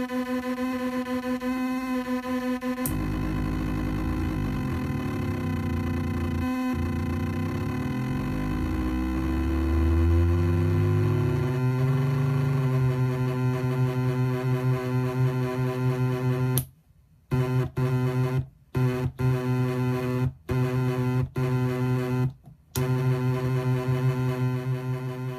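A 256k HXBXI noise machine drones with stacked harmonic tones that bend and glide in pitch, then stutters into abrupt dropouts and choppy cuts in its second half, loud and unstable throughout.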